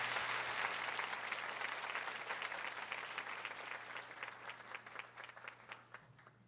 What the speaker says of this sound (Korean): 하나님께 영광의 박수 올리면서